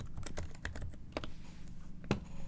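Keys clack on a Framework 16 laptop keyboard in a short burst of close, crisp taps with brief pauses between strokes, quiet and alone with no voices.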